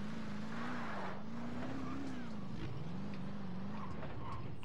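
A car engine drones steadily in the PS2 game Scarface, a continuous mid-loud hum with a wavering pitch and faint skidding texture throughout.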